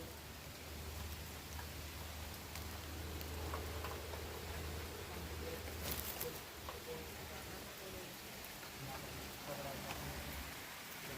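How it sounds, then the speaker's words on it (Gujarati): Rain beginning to fall outdoors on a hilltop near a cave shrine, a soft, steady hiss of drops spread evenly throughout, with faint voices in the background. "વરસાદ ચાલુ થઈ ગયો હે."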